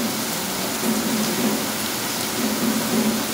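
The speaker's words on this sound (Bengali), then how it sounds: "জোরে বৃষ্টি হচ্ছে।" Heavy rain pours down steadily, a dense close hiss of drops on surfaces with no pauses, loud and unbroken.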